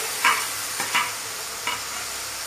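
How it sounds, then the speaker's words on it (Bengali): Ground onion paste added to frying ginger-garlic paste in oil, sizzling steadily while a few quick stirring scrapes rise above it, close and clear with no talking. "এবার আমি এতে দিয়ে দেব পেঁয়াজ, যেটা আমি বেটে রেখেছিলাম ওটাকে আমি দিয়ে দিচ্ছি"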